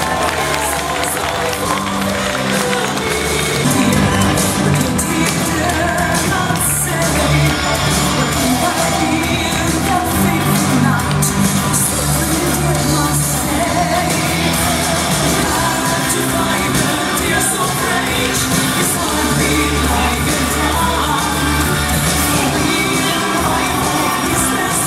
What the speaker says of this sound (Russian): Встречайте их громом аплодисментов!